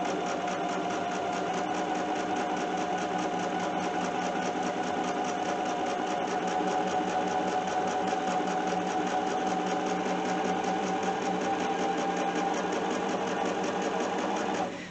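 Bernina sewing machine stitching quilt blocks runs steadily and close up for the whole stretch, a continuous fast mechanical whir with a rapid needle rhythm and no talk over it.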